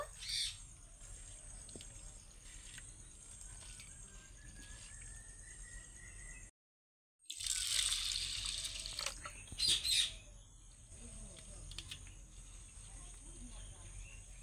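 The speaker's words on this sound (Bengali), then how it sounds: "এবার আমি জল পাল্টে পাল্টে এই মসুরির ডালটাকে 2-3 বার ধুয়ে নেব" Masoor lentils are rinsed in changing water, a brief burst of splashing and pouring sounding after a short silence, while crickets chirp steadily in the background throughout.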